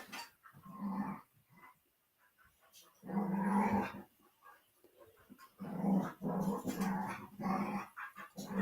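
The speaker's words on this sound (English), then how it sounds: "The dogs are just in there playing." Dogs growl and grumble in playful bursts, rising and falling with short quiet gaps between, fairly close with no people talking.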